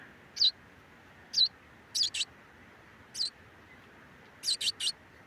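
Small bird chirping in short, bright bursts, some single and some in quick pairs or triplets, heard near a hay-filled enclosure over a quiet background hiss.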